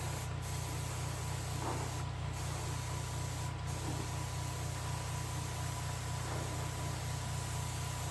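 A steady, close hiss of base coat sealer sprays onto a taxidermy crappie, broken by a few brief pauses in the flow.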